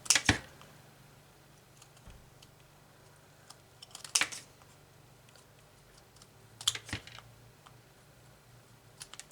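Scissors snip through cross stitch fabric in a few separate bursts of sharp cutting clicks, close and fairly quiet, with light handling noise between the cuts.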